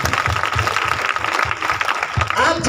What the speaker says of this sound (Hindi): ताली हो जाए, जोरदार ताली हो जाती है।